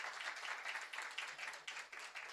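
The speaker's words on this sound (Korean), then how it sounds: "우리 박수 한번 쳐주시기 바랍니다." A church congregation at a revival meeting claps together, a brief, soft but continuous patter of many hands heard from some distance, with no voices over it.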